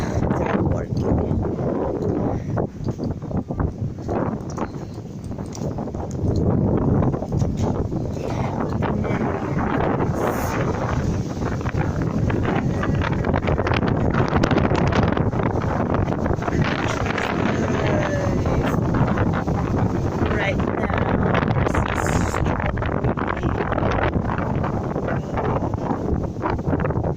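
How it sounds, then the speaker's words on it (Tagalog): Strong wind buffeting the microphone on the Palm Jumeirah shoreline in Dubai, a loud, constant roaring rush that swells and eases over half a minute, with a voice talking beneath it. "Ang lakas ng hangin dito. Bagyo talaga."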